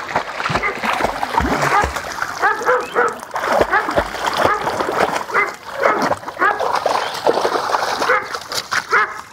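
A dog splashes through water chasing a thrown ball, with continuous sloshing and churning close by, broken by brief whimpers and yips, while a person talks over much of it.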